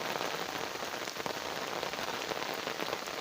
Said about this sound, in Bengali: সারা রাত বৃষ্টি পড়ছে